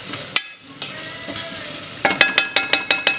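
Onions and spices frying in a pan for a split chickpea curry, a steady sizzle broken by a rhythmic run of stirring scrapes toward the end, close and fairly loud with no voices.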